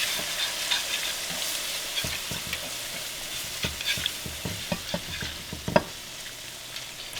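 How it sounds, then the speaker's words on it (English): Water being stirred into a sizzling frying pan while making smothered pork chops: steady frying hiss with a series of light scraping and clinking stir strokes, close up, no talking. "Just stir it as you go,"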